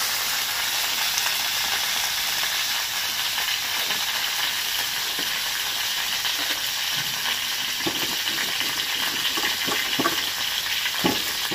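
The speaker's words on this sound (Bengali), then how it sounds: "এবার দিয়েছি কুমড়ো। এটাকেও ভেজে নেব।" Pumpkin pieces frying in oil, an even, moderate sizzle with a few scraping stir sounds near the end.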